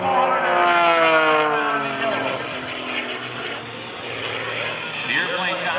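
Airshow flight of an MXS all-composite aerobatic plane, its propeller engine roaring and sweeping in pitch as it maneuvers, loud and fairly close, with an announcer talking over it.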